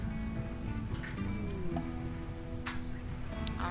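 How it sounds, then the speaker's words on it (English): Steady rain falling in the colony sim game Rimworld, a soft continuous patter with a few brighter ticks, running alone at low volume under faint background tones. "Yes, it's raining."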